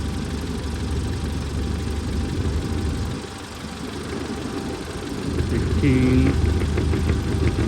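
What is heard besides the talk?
engine idling, RPM climbing slightly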